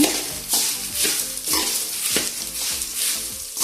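Coriander seeds and cumin sizzle in a pan while being stirred in repeated scraping strokes about every half second. The sound is close and fairly loud, with no voices.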